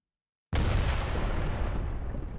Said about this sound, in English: Just imagine just gunpowder cannon going off just above your head.